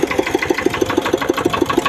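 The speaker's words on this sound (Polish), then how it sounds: "Dziś parkuję traktorek kosiarkę w inne miejsce." A lawn tractor mower's engine runs steadily up close, its loud rapid rhythmic chugging with an even pulse and mechanical clatter throughout.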